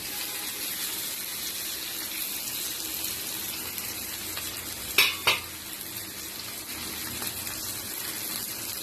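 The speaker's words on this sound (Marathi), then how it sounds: "आता जो मी हे भाजी फ्राय केला ती मी त्याच्यामध्ये ॲड करणार" Fried ash gourd slices dropped into sizzling chili and onion in a pan, a loud steady fry hiss close up with a couple of sharp clatters midway.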